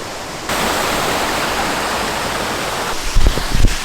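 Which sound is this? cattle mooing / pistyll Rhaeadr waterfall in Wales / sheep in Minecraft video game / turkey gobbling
pistyll Rhaeadr waterfall in Wales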